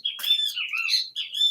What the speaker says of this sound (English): as you can hear the birds in the background, they're very annoying.